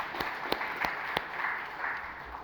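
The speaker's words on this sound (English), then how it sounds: "we should give a big round of applause to our regulator" Sparse, quiet clapping from a seminar audience acknowledging a regulator, a few distinct claps standing out over faint room noise.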